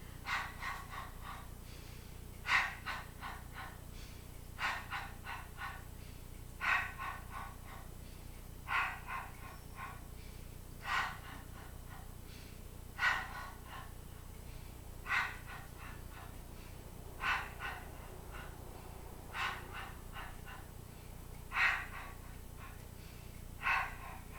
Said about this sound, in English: taking a breath in, breathing out, curling up, legs up, point and turn out